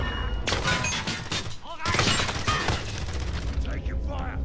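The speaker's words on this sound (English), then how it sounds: "Someone shoots a rocket at us." Rocket launched at players during a Warzone video game match, a dense burst of explosive booms and gunfire-like cracks with a brief dip before a second loud blast, crowded with game noise and voices.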